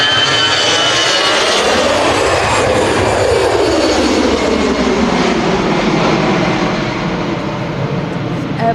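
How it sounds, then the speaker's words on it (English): An Easyjet Airbus A320 jet departs Manchester Airport on runway 23L, its loud, broad engine roar sweeping past close by with a clear Doppler pitch shift, then slowly fading as it climbs away. "It's an Easyjet A320 going to Naples."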